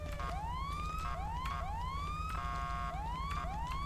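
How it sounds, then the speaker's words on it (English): A synthetic police car siren from Grand Theft Auto V wails in repeated rising sweeps, steady and loud over a constant low electronic hum, with no voices. "we gotta turn the sirens off."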